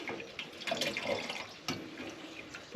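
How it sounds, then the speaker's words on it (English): Cold water gently poured into a pot of cowboy coffee at an off-grid yurt campsite, giving a faint, quiet trickle and splash with small drips, heard alone. "And just gently pour the cold water in."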